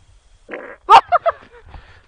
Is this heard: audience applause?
no